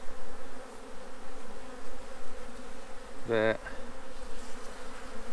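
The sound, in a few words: honeybees buzzing on hive frame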